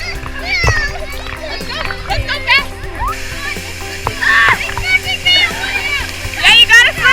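Children swim and splash in a pool beneath a waterfall, with bursts of splashing and sloshing water mixed with kids' voices and adult encouragement over a steady rush of falling water.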